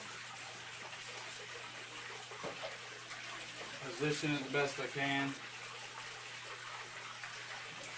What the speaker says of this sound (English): The waterfall from this output is going to be quite loud